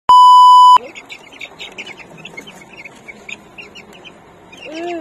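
A sharp electronic beep opens, then faint clucking and scattered bird calls from a rooster nearby, ending with a rising crow-like call.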